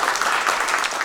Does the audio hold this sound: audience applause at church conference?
yes